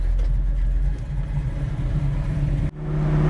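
A 1968 Chevrolet Chevelle engine runs with a deep, steady rumble, then briefly cuts out before resuming at a slightly higher note.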